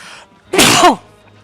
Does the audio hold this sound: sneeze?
yes